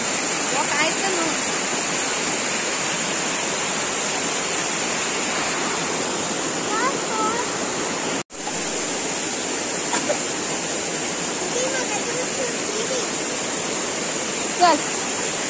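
A small waterfall rushes steadily as broadband white-noise water roar, with faint voices and birdlike chirps surfacing occasionally and a brief dropout midway.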